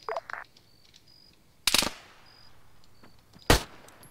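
Rifle shots ring out in an Arma 3 shootout, three sharp cracks spaced more than a second apart, the first a quick double burst, the later two louder with short echoing tails over a quiet background.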